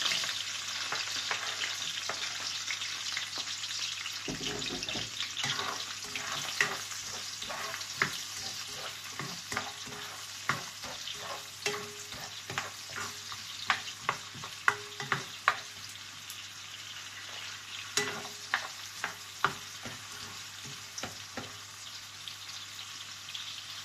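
Onion and garlic stir-frying in a pan: a continuous close sizzle broken by frequent sharp clicks and scrapes of a utensil, which grow busier partway through, with no talking.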